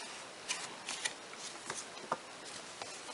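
Two small cards pulled from a little pouch and handled, giving soft, quick papery flicks and rustles in irregular bursts, close and fairly quiet.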